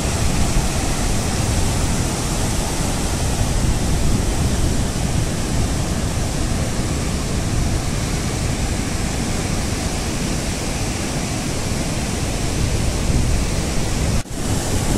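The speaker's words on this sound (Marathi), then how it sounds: "मस्त समुद्राचा आवाज आहे" Sea waves break at high tide on the Konkan coast near Dapoli, a loud, continuous roaring wash of surf that fills the whole stretch without pause.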